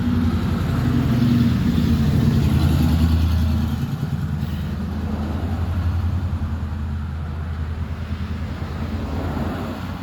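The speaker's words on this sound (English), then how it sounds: "sorry about all the traffic." Steady road traffic rumbles by outdoors, a continuous low drone with a heavier vehicle passing early on before settling into an even background wash.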